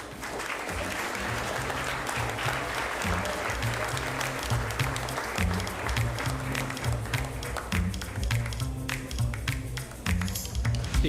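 Steady audience applause fills a school awards gala hall at a secondary school merit ceremony, with a low musical hum or background music underneath and sustained clapping throughout.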